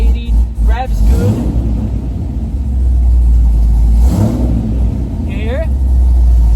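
A Corvette's swapped-in engine revs loudly up close, a heavy rumbling drone that swells and holds, with a voice breaking in briefly over it.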